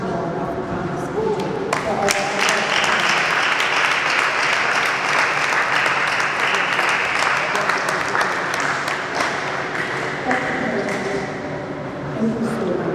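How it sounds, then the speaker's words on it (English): A room full of people claps continuously at a badminton opening ceremony, a loud, sustained wash of applause with a few sharper individual claps standing out, holding steady for the whole stretch. "Help me to welcome or give an applause to Mr. Ishmael Africanus."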